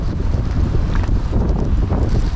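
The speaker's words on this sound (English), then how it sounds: "such a nice view and the sound of the ocean in the background" Ocean surf near a roadside cooking spot on a New Zealand forest road, a steady broadband wash buffeted by strong wind noise on the microphone, with no voices.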